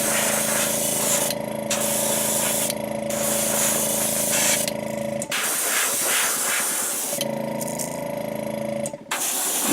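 An airbrush sprays Createx opaque white base coat onto a fishing lure in steady, close hissing bursts, with several short pauses between passes and a longer gap in the middle.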